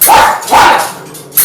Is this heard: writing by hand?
no